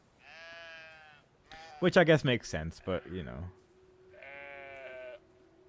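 Sheep in the video game Brothers: A Tale of Two Sons give two clear, drawn-out bleats, one before and one after someone talks over the game.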